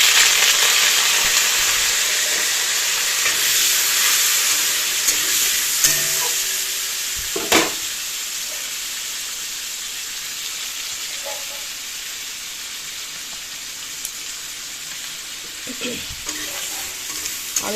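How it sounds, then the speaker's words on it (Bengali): Panch phoron and dried red chillies crackle and sizzle continuously in hot oil, with a steady frying hiss and several sharp stirring clanks against the pan. "আর দিয়ে দিচ্ছি পাঁচফোড়ন আর শুকনো লঙ্কা দিয়েছি তেলে করে।"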